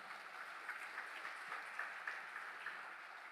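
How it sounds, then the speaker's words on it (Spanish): A congregation applauds during a church service, a faint, steady patter of clapping heard from some distance with no voices over it. "Dele un fuerte aplauso."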